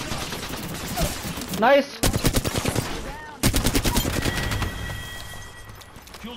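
Rapid automatic gunfire in a video game shootout comes in several loud close bursts separated by short pauses, with a voice briefly speaking between them.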